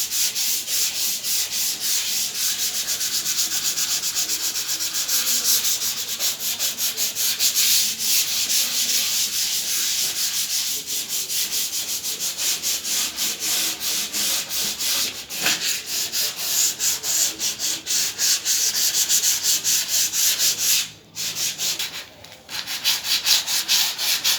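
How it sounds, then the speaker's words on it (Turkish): Continuous scratchy rubbing of sandpaper on a wooden coffee table, fast back-and-forth strokes close up, briefly pausing near the end before resuming. "bu şekilde sehpamızı zımparalıyoruz"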